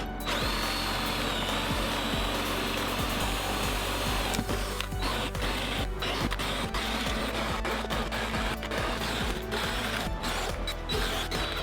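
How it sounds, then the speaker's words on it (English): A cordless Dewalt 20V Max compact drill/driver bores holes in wood with a 7/8-inch Forstner bit, a loud steady whirring grind that runs without a break and is occasionally punctuated by sharp crackles of wood chips. "So I went with a 7/8-inch Forstner bit"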